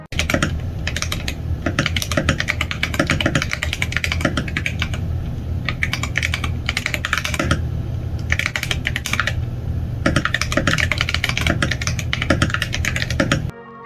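Steady, continuous typing on a GMMK Pro mechanical keyboard fitted with its stock keycaps, close-up clacky keystrokes in fast runs with brief pauses and no voices.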